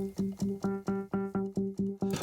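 A synth note repeats in a steady pulse, about nine evenly spaced plucks with a resonant, filtered tone and no voices.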